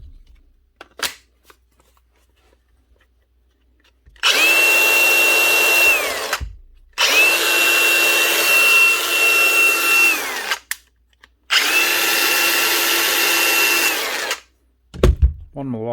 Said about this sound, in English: One Milwaukee grinder with a new flappy paddle switch.